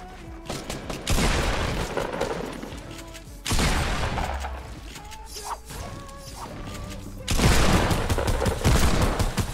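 Bursts of rapid gunfire in a Fortnite match, three loud sustained volleys separated by quieter stretches with clicks, creaks and mechanical handling sounds in between.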